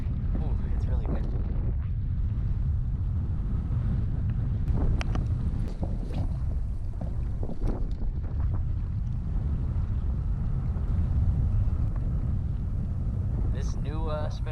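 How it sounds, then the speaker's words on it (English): Outdoors during trout fishing in Colorado, strong wind roars against the microphone and rumbles without a break throughout. Brief bumps and handling noises come and go, and a voice is heard faintly near the end. "Ooh, it's really windy."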